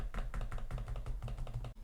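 Trackpad of an HP OmniBook 5 Snapdragon laptop clicked repeatedly, a quick, even series of crisp close-up taps with no talking.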